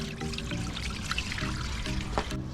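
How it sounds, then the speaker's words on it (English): Water poured into a soup pot while cooking Jamaican soup, a steady, close splashing stream that runs continuously throughout with no talking. "Drop some water, people."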